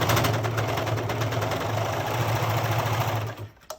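A serger sewing machine stitches through four layers of fabric for a headband, a loud, fast mechanical whirring hum that runs steadily and then winds down and stops near the end.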